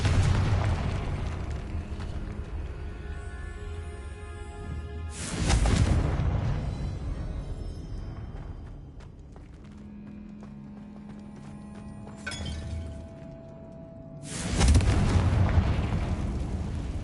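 Fiery Confringo spell explosions in Hogwarts Legacy go off as two heavy booming blasts several seconds apart. A lighter burst comes between them, and game music and ambience hum underneath.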